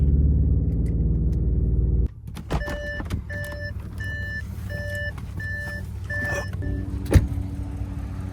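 An Audi A8L with an upgraded TGK stabilizer bar gives a steady, loud low rumble for two seconds. Then it goes quiet, and a repeating electronic chime beeps in regular pulses inside the cabin.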